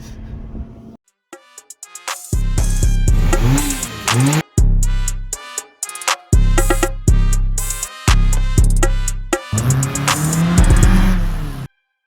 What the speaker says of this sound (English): Amarok launch control.